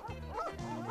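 Several dogs at a winter kennel tethering yard, including the Czech mountain dog breed, give short yips and bow-wow barks in quick succession, fairly close.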